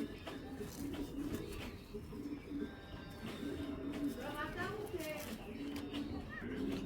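A China Khaki pigeon, an old-breed hen, coos in a low repeated rhythm close by, alongside other bird calls, with steady background noise throughout.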